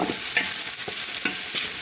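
Onion frying in ghee crackles and sizzles loudly and close, with quick repeated scraping strokes of stirring over a dense, bubbling hiss.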